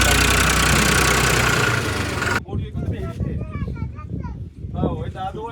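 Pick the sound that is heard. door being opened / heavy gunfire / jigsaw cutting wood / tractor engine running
tractor engine running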